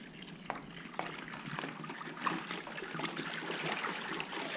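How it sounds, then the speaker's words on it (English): Hot water pours steadily from a gallon jug into a bucket of sugar for bee feed, a continuous faint splashing and trickling with a bubbling quality. "So here we go with the first gallon of water."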